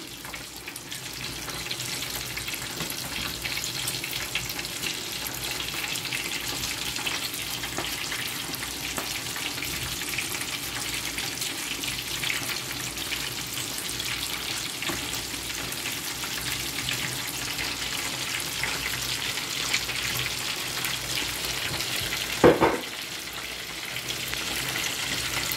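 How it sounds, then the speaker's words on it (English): Prawns fry in a pan of Sri Lankan devilled sauce, giving a steady, close sizzling hiss that runs unbroken for a long stretch, with one brief clatter near the end. "we're just gonna toss the prawns in."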